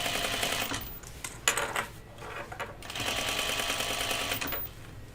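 A sewing machine top stitches a small curve on overalls, its fast mechanical whir running in bursts that stop briefly and restart, close and moderately loud.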